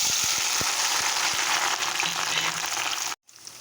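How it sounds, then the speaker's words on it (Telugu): Bitter gourd pieces drop into a full cup of well-heated oil in a kadai, a few sharp splashes at first settling into a loud steady sizzle before cutting out suddenly near the end. "ఇప్పుడు కాకరకాయ ముక్కలు వేసుకోవాలి."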